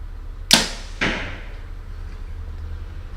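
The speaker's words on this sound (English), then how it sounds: "listen to the sound that my bow makes shooting an arrow this light" A compound bow looses a light Victory V Force arrow, giving a sharp release crack followed half a second later by a softer thud as the arrow strikes, both close and alone in a quiet outdoor setting.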